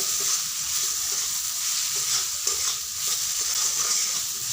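Spices with turmeric and salt fry and get stirred in a pan for egg curry. A steady, loud, hissing sizzle carries on throughout with faint scraping strokes of the spoon and no voices.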